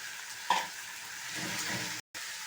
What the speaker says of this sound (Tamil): இப்போ காராமணியும் சேர்க்க போகிறோம் இது கட் பண்ண காயையும் சேர்த்துடலாம்